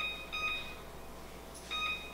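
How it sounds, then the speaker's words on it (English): A kitchen timer beeps faintly in a quiet kitchen while chicken enchiladas bake, with two short bursts of high electronic beeps separated by a pause of low background hum. "set my timer so I don't forget."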